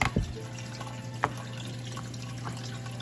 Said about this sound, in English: here's the pump